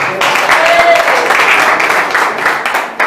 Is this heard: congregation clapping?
yes